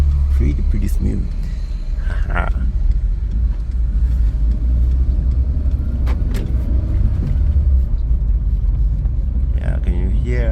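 A rebuilt VW Polo Vivo driving smoothly in third gear, a steady low engine and road rumble heard from inside the cabin, with a person talking over it.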